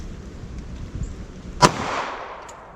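One sharp 9mm gunshot fired at a target, a sudden loud crack followed by a short fading echo, set against faint outdoor background noise.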